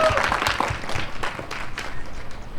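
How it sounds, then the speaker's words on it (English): A crowd applauds with steady, dense clapping that holds the whole time, with a few voices mixed into the noise. "So can we give her a big round of applause?"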